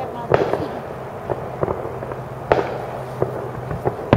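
A fireworks show sends out a string of sharp explosions and deep booms at irregular intervals, some loud and some farther off, over a steady background rumble.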